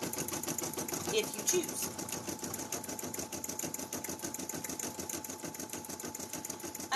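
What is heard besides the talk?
embroidery machine stitching felt patches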